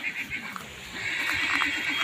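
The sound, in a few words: horse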